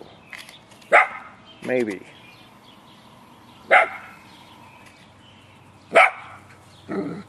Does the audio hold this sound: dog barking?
yes